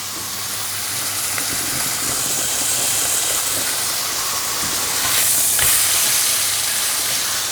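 Blade steak sizzling steadily in a hot pan as it is flipped now and then, a continuous bright hiss that swells slightly toward the end, close and fairly loud with no talking.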